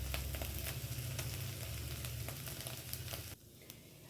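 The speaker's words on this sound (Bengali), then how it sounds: "এর মধ্যে আমি পরিমাণ মতন নুন দেব, লঙ্কার গুঁড়ো দেব, দিয়ে এবারে কষতে থাকবো।" Filling sautés in a pan with salt and chili powder for stuffed cabbage pancakes, a steady close sizzle with faint stirring scrapes that drops off sharply near the end.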